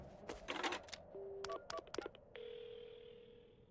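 Telephone keypad dialing on a phone-booth phone while placing an emergency ambulance call in a horror video game: a quick run of separate beeps and clicks, then a steady tone that holds to the end, fairly quiet.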